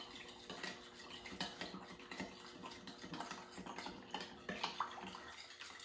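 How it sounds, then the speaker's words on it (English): A metal spoon clinks and scrapes against a bowl while stirring yeast into water to dissolve it for naan dough, a close, irregular series of small taps and swirls. "I'm going to take a spoon, and I'm going to stir my yeast up and try and get it to dissolve"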